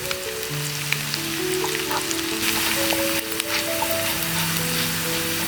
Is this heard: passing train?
no